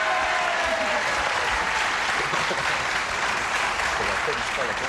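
Game show studio audience applauding steadily for several seconds, a dense even wash of clapping with no break and no voices over it.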